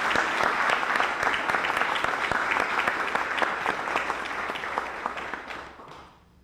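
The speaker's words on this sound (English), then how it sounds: "join me for a round of applause for Jimmy Bass and all he's done for UNCW" Audience applause at a university athletics news conference, dense and steady clapping from a roomful of people for about six seconds before fading out at the end.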